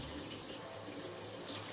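Hot water runs steadily from a tap during cabinet cleaning, a continuous faint hiss and splash with no breaks and no talking.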